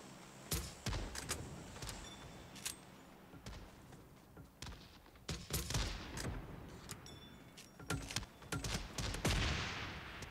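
Scattered gunshots in PUBG Mobile crack out at irregular intervals, some sharp and near, others softer and more distant, over a quiet background.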